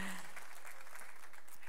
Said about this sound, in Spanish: Mujeres, un aplauso, por favor